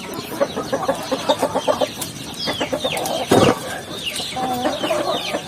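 Young chicks and a pair of broiler chicks chirp and peep busily up close, dense overlapping calls with a few louder squawks and a brief rustling burst midway, with no talking.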